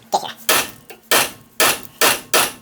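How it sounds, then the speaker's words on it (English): Five or six heavy, sharp hammer blows on a rusted ball joint, spaced about half a second apart, loud and close with a brief ring after each strike. "the impact of your hammer is not actually going very far"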